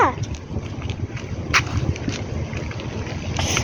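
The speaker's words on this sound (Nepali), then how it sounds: "अछु हावा चलेको" Outdoors, wind blows hard into the phone microphone, a continuous low rumbling buffet with gusts that rise and fall throughout. Faint talk sits underneath the noise.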